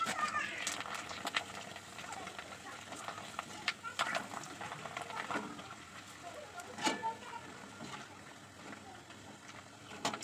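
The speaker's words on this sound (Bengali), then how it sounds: "দেখেন আমি পাঁপড় ভাজবো, পাইপ ভাজবো, পাইপ" Papad pipes sizzle and crackle in hot oil in a kadai, with a steady, moderately loud bubbling hiss and scattered sharper pops, with some background voice.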